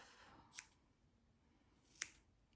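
Two separate sharp snips of scissors trimming the stray yarn ends of a pom-pom for a mini knit beanie, each a brief crisp cut with quiet pauses between and no talking.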